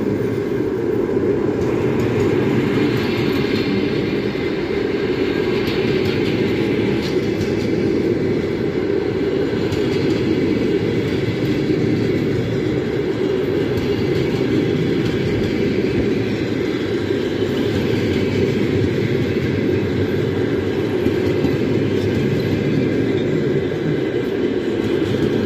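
An Almaty branded passenger train running on rails, a loud continuous low rumble and rolling roar throughout with faint clatter, no talking.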